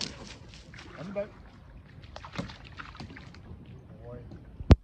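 Paddle strokes from a home-built plywood paddle board splash gently on water, with soft irregular dips and trickles, light breeze noise, and a sharp knock near the end; a voice speaks briefly nearby.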